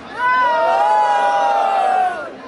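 Loud crowd roar at a street rap battle, Batalha da Leste: cheering and high shouting rise sharply, hold steady for about two seconds, then drop away.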